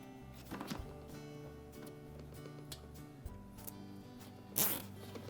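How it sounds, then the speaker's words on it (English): A plastic zip tie ratcheted tight around a Maytag dishwasher drain hose, a quick series of faint close clicks followed by a brief louder zip near the end, with steady background hum. "we'll take our zip tie, we'll fit it down through that little slot"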